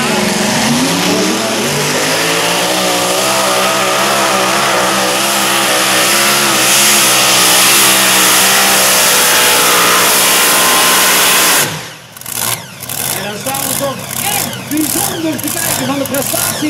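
A mini unlimited pulling tractor at the Grand National Loerbeek 2016 tractor pulling event roars loudly and close, its engine pitch climbing steadily for about eleven seconds before breaking into choppy, stuttering bursts, with a voice talking over it.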